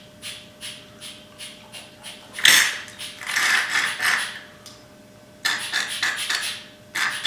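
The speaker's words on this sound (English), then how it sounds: "grab my mighty vac. I'm going to suck out the old fluid out of the reservoir" A Mityvac hand vacuum pump draws old brake fluid from the reservoir of a Suzuki V-Strom 1000, giving a series of close, rhythmic squeaky strokes and soft sucking rasps with brief pauses between pumping bursts.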